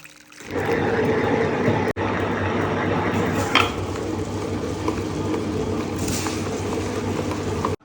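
A Smart Fingers Masala+ tabletop wet grinder grinding rice and urad dal into appam batter runs steadily with a low hum and a wet churning, grinding texture, continuous and close, with a brief click partway through.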